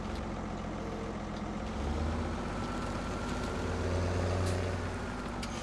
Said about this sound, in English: That's the thing with this tractor, is it's a perfect front loader machine.